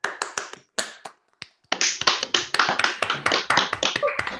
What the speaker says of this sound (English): we are going to give a very large and warm round of applause to Matthew Skelton